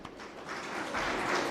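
Audience applause in a college management-school hall, a steady wash of many hands clapping that swells slightly toward the end, dense and continuous with no talk over it.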